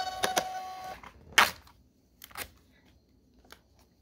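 A Logia label printer prints an eBay shipping label: a short burst of mechanical whirring and clicking, with a few sharp clicks before it and a couple of softer ticks after, fairly close and otherwise quiet.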